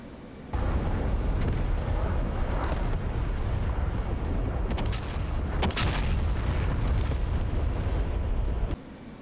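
A laser-guided bomb that missed its target explodes in the DCS flight-sim combat game, set over Syria, as a sustained, heavy, rumbling roar lasting about eight seconds, with sharper cracks partway through, loud and without voices.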